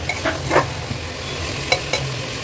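Spices with coriander and chicken are stir-fried in a pan for a winter chicken stew, with a low steady sizzle broken by a few sharp spoon scrapes and knocks.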